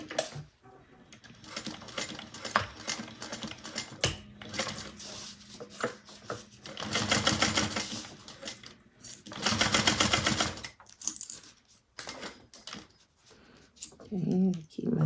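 Sewing machine stitching a bag, with steady bursts of mechanical running that start and stop, loudest in two long runs, while someone talks quietly between passes.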